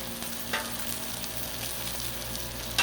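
An egg frying on a hot Blackstone griddle, a quiet steady sizzle with a low hum underneath and a couple of brief sharper crackles.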